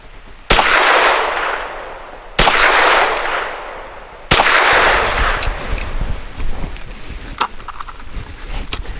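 Three loud, sharp pistol shots from a CZ P-10C firing Honor Defense 100 grain hollow point frangible ammunition, spaced about two seconds apart, each with a long booming echo, followed by fainter clatter.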